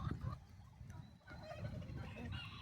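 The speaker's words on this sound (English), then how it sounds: "Y'all are some messy eating birds" Turkeys and a duck feeding in a poultry pen, with a close, busy run of gobbling and clucking calls coming in short bursts, loud and unbroken by talk.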